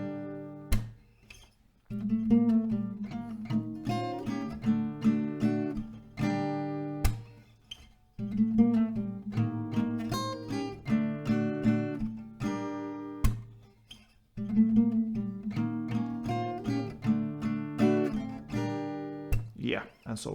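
An acoustic guitar plays rounds of the chorus of a song, with steady strummed chords and picked notes in a repeating pattern, close and clear, with brief pauses between rounds.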